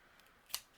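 Scissors give one sharp, close snip while trimming baker's twine on a handmade birthday card, with a faint click just after in a quiet room.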